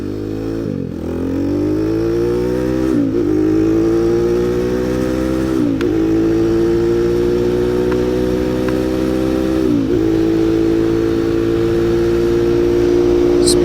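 A Honda Grom clone motorcycle fitted with a ZS-190 engine hums steadily at high revs while riding, its pitch dipping briefly at a few gear changes before climbing again, loud, close and continuous with no voices.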